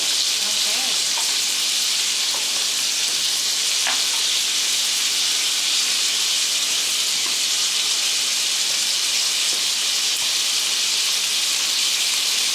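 Longganisa sausages fry in a pan with a steady, bright sizzle and hiss that holds evenly throughout, close up, with no voices over it.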